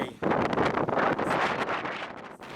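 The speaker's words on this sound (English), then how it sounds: "The Meltemi winds are the strong north winds of the Aegean Sea" Strong Meltemi wind buffets a sailing boat off Kythira, Greece, a loud, gusty roar that batters the microphone in surging waves for a couple of seconds.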